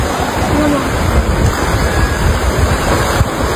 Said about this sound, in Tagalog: Sa gilid ng dagat mismo. Tingnan mo yung dagat.